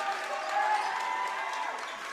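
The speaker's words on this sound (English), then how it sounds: "Crowd's getting into it." A basketball crowd at a boys varsity high school game cheers and claps in a steady, full roar that lasts the whole moment, with a voice talking over it.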